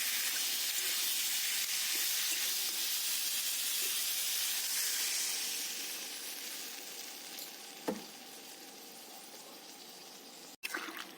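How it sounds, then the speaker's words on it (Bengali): Water poured into a hot pan of fried potatoes hisses and sizzles loudly at first, then settles into a softer simmering bubble, with a couple of sharp clinks near the end. "তারপর পরিমাণ মতন আমি জল দিয়ে দেবো"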